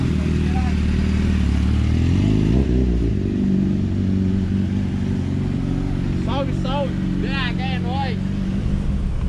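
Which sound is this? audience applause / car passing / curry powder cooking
car passing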